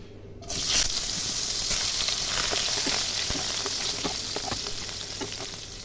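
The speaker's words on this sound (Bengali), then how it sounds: "এবার আমি তেলের মধ্যে দিয়ে দেব বেগুন।" Eggplant pieces frying in hot oil: a sharp burst of sizzling as they go in, then a steady, close crackle and hiss that softens slightly over the next few seconds, with no talking.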